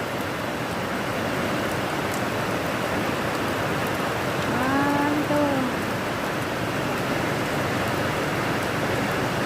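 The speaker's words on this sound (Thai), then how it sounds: "ฝนตก" Steady, dense rain falls outdoors on a rural morning, a continuous close hiss lasting throughout, with a short bird call briefly rising above it midway.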